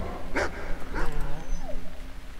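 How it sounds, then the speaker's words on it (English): A guard dog in the video game The Cave gives two short, sharp barks close up, followed by a quieter whine, with game ambience underneath. "Guard dog."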